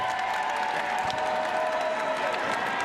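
A crowd applauds steadily at a women's college basketball championship game in a gym. The clapping is dense and continuous throughout.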